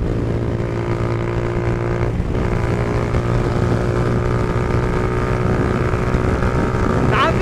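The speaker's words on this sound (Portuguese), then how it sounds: "Minha moto é 150." A 150cc motorcycle engine drones steadily while riding during a street race, with a constant buzzing tone throughout and faint voices underneath.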